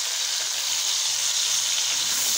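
Masala paste for an egg masala curry frying in hot oil, a loud, steady, close sizzle that holds a constant hiss throughout with no pauses, alone without talk.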